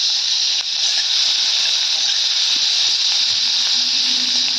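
Chopped onion hitting hot oil with a bay leaf for a Bengali duck egg curry, giving a loud, close, continuous hissing sizzle that holds steady throughout.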